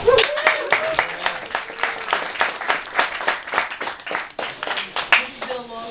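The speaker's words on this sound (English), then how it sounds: "Please give him a hand" An audience at a fiction reading in a bar in New York City claps for the reader, a burst of close, dense hand claps lasting several seconds, thinning out at the end while a voice begins speaking.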